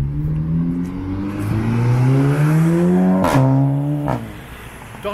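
A Seat Leon Cupra 300 with a loud aftermarket exhaust drives past, its engine note climbing steadily in pitch as it accelerates, then a sharp crackle and a drop as it lifts off, fairly close and with no talking.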